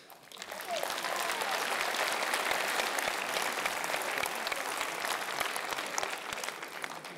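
A town-hall audience at the mayor of Voiron's New Year address breaks into applause after a remark on parking fines, with dense, even clapping that swells quickly and holds steady, no voices over it.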